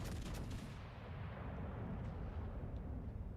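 The battleship Iowa fires its main guns in the naval game World of Warships Legends, a muffled low boom at the start that fades into a faint, rumbling tail.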